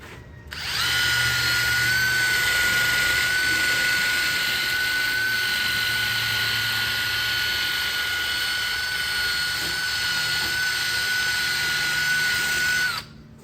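A tool pulls a wheel bearing out of the hub of a 2003 Ford Escape with a Hub Grappler puller, giving off a loud, steady, high-pitched whirring whine. It starts abruptly, runs for about twelve seconds, then cuts off.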